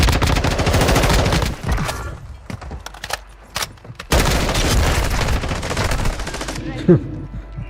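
Dense gunfire from Call of Duty Warzone 2.0 crackles loudly through most of the stretch, dropping to scattered isolated shots in the middle before heavy automatic bursts resume, with a sharper single bang near the end.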